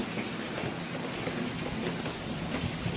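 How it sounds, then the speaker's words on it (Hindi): Heavy monsoon rain pouring steadily on a house, a dense continuous hiss of drops with no voices, moderately loud throughout. "बारिश बहुत तेज़ होने लगी।"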